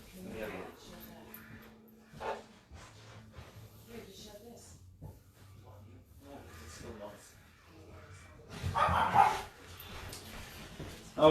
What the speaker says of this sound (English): I got a dog in here. Hold on. Get out of here. Hold on. It's making a ton of noise.